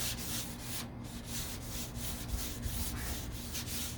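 Hand sanding on the deck lid of a 1969 Corvette C3, a soft, steady rubbing with regular back-and-forth strokes over a constant low hum, quiet and close.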